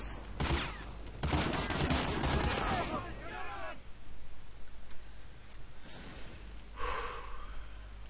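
Gunfire in Medal of Honor Allied Assault as a player shoots at a tree, a loud cluster of shots early followed by quieter scattered rounds and game noise, with a player's voice briefly heard.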